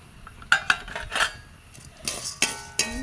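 Intermittent metallic scrapes and clinks of a spoon stirring lentils roasting in a pan, several sharp knocks spread unevenly over a quiet background.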